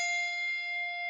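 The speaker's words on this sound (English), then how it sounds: "we ring bell number 1 right over its home position" A handbell rung once over its home position during handbell weaving, its clear sustained tone holding evenly and bright for about a second, alone and close.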